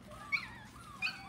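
Schnoodle puppies near weaning age give two short, high-pitched whimpering yips a little apart, faint over a low steady background.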